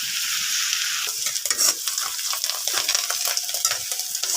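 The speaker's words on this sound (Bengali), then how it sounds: "এইখানে মাছ ভাজি চলছে।" Fish sizzles steadily in hot oil in a pan alongside fried taro stolons, a loud, continuous crackle with a few brief stirring scrapes and no talking.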